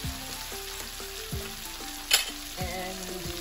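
Masala spices for a Gujarati onion and potato curry sizzle and fry in a hot pan with a steady crackle, broken by a few scraping stirs and one sharp clink of a utensil.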